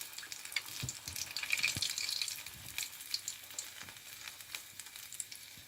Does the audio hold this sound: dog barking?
no